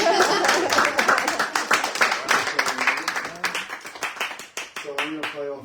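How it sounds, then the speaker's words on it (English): Audience at a poetry reading clapping by hand, a dense burst of claps that thins and fades toward the end, with a voice briefly speaking near the close. "You can clap it back."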